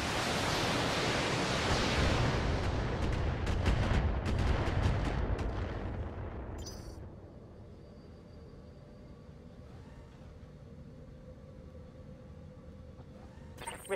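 Mech weapons firing in the Battletech video game, a loud dense barrage of blasts and rumbling impacts through the first six seconds that fades to a low, steady game ambience with a few faint clicks afterward.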